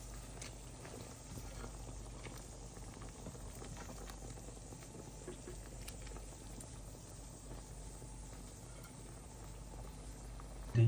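Water comes to a boil in a covered pot of fish curry with cauliflower and potato, a faint continuous bubbling and light pattering, steady throughout with a brief knock at the very end.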